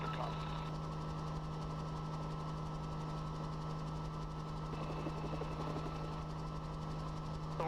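Westland Sioux helicopter in flight, a steady engine and rotor drone with a strong low hum and constant vibration throughout, heard from inside the cabin, no talking.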